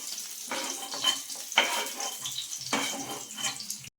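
Capsicum and tomato hiss and crackle as they fry in hot oil in a pan, with intermittent bursts of sizzle and stirring scrapes, moderately quiet and close.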